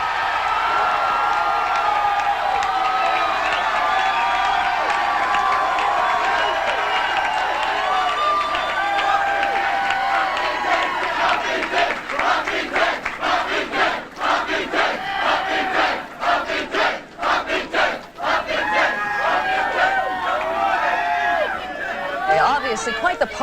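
Republicans at a 1994 midterm election night victory party cheer as a large crowd, a sustained roar of shouting voices and whoops that later breaks into rhythmic clapping and chanting.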